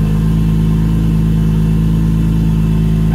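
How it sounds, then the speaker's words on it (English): A turbocharged BMW E46 engine runs at a cold high idle, a steady loud drone with an even low-pitched pulse that holds constant throughout, with no voices. "So it's still cold, so it's high idle right now."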